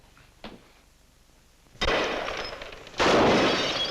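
Gunshots in a 1948 film, two sharp loud cracks with lingering noisy decay, following a faint earlier knock.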